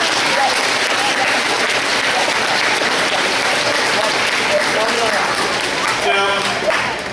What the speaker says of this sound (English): I want you to give all of you yourselves a big round of applause for that.